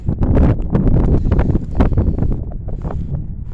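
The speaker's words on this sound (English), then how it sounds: "Tired of fighting the wind and the snow today." Wind buffeting the microphone outdoors in falling snow at a cemetery, a loud, continuous low roar that gusts and flutters for the whole clip.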